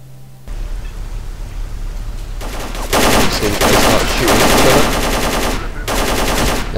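Rapid automatic gunfire between the player and hostile mercenaries in STALKER: Call of Chernobyl, loud close bursts that start after a brief quiet moment, with a few short gaps between the volleys.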